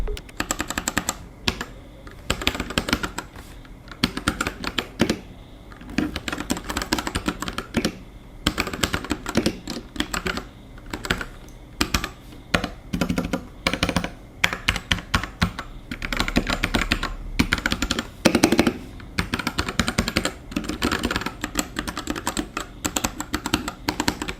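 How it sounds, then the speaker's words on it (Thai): Continuous typing on an RK68 Pro mechanical keyboard with Gateron Brown tactile switches, a steady rapid patter of keystrokes close up, with brief pauses between bursts. "เราจะมาฟังนะครับเสียงเจ้า RK 68 Pro นะครับโดยใช้สวิตช์ของ g a t e r o n Brown"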